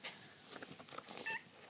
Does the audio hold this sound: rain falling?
no